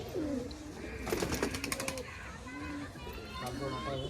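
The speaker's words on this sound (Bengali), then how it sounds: "চারিদিক পায়রাই পায়রা।" Madrasi pigeons coo in a crowded old loft, soft repeated throaty calls close by, with a brief flurry of wing flapping and a voice talking faintly over them.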